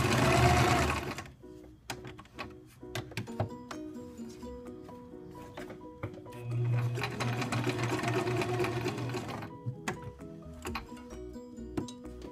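A sewing machine stitches light fabric and tulle into a small square, with bursts of fast mechanical whirring and clattering broken by ticking stops and clicks as the fabric is repositioned, close and clear, no speech.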